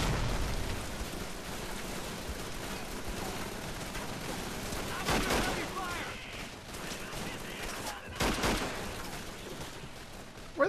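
An enemy machine gunner firing in the game Call of Duty 3, a sustained rattling fusillade with sharper bursts standing out near the middle and end, heard alongside battlefield noise and occasional speech.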